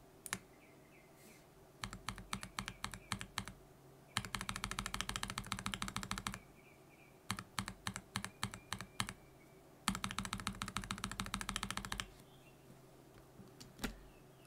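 Bursts of typing on a mechanical keyboard fitted with stock Joininkeys Prince switches and keycaps, with close, fast clacking runs separated by short pauses, alone with no talk.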